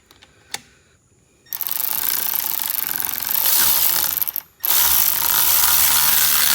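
A ratchet works an outboard motor bolt on a Yamaha 30HP outboard, a loud, close, continuous rasping clatter that runs for several seconds, breaks off briefly and resumes, after a few faint clicks.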